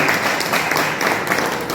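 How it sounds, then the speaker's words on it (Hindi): An audience at a birthday function claps loudly to welcome a guest, a dense, steady burst of many hands close by with no talk over it. "तो इनके लिए मैं 2 छोटी सी 2 तालियां चाहूँगा, बहुत जोर से आप इनका स्वागत करें।"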